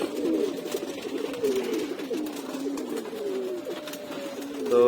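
Pigeons coo steadily throughout, a close, continuous layered cooing from several domestic birds kept as pets, with no talk.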